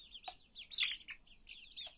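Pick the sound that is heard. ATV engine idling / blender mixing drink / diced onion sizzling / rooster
rooster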